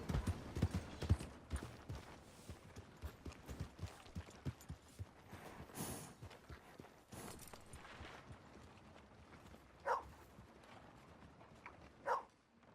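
A horse's hooves clip-clop in Red Dead Redemption 2, a quick run of steps early on that slows and thins out, with a couple of sharper bursts near the end.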